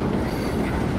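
A train rolls along steadily in the Call of Duty: Ghosts video game, with a loud, continuous rumble and rattle of wheels on track and no talking.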